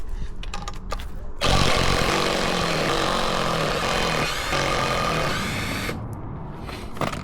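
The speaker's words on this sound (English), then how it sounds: "Now it's time to take out the bolts to separate it from the hub." Loud, sustained power-tool whirring and rattling from removing bolts on a Land Rover Defender Td5 rear brake hub. A quieter stretch comes first, then the tool runs steadily for about four and a half seconds before stopping.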